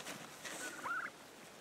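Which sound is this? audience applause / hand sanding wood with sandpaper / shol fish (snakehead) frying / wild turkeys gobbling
wild turkeys gobbling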